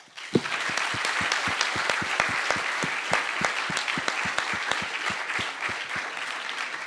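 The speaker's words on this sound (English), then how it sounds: "a big applause to all of our panelists" Audience applause for conference panelists at a fintech event on crypto, blockchain and Web3, a steady dense round of clapping with sharp individual claps standing out, sustained at even loudness throughout.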